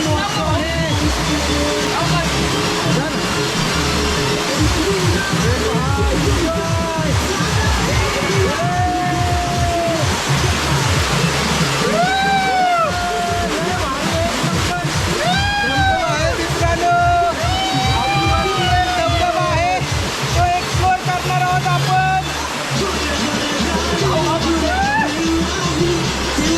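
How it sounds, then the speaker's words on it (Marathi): A small waterfall at Varasgaon near Pune during the monsoon pours as a steady, continuous rush of water, with people talking and calling out loudly over it throughout. "वरनं पाणी छोटा स्मॉल धबधबा आहे पहा."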